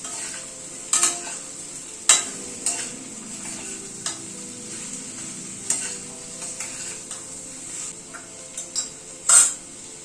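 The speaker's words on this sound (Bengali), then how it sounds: "সব সবজিগুলো মশলার সাথে কষিয়ে নেব।" Mixed vegetables, beans and soybean stir-fry with spices in a pan: a quiet steady sizzle punctuated by occasional loud clanks and scrapes of a spatula against the metal, heard up close without speech.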